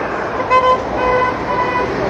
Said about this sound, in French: Ça klaxonne au-dessus aussi.